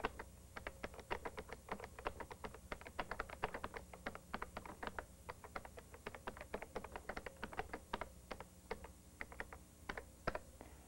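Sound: typing on a computer keyboard

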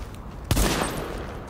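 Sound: gunfire shooting out car tires in The Division video game

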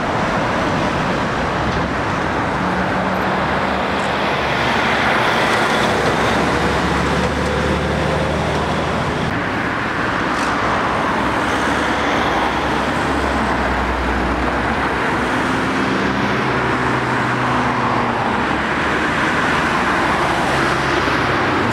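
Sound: road traffic with lorries on the A66 near Penrith

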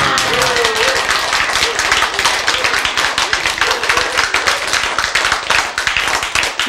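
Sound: hands clapping

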